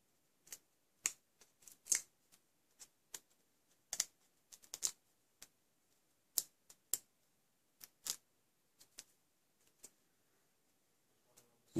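Papercraft pieces made with Stampin' Up products for a chocolate liqueur slider box are peeled off one by one, giving scattered crisp little clicks and rips, close and fairly quiet, with no voices.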